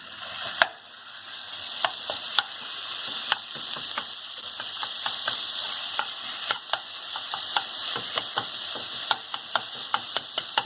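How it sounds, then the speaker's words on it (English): Ground meat fries in a pan with a loud, continuous sizzle while a utensil stirs and scrapes against the pan in regular sharp clicks, close and alone without talk. "I'm gonna start cooking the meat"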